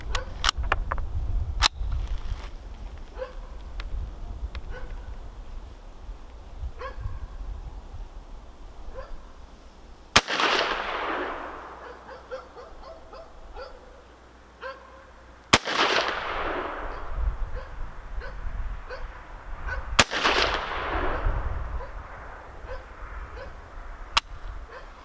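Shots from a Savage A17WSM rifle fired outdoors in the cold, several sharp loud cracks spaced seconds apart, each followed by a rolling echo, with faint background noise between.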